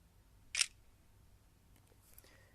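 A single short synthetic camera-shutter click from a phone photo app, faint and close in a quiet room, followed by a couple of softer taps.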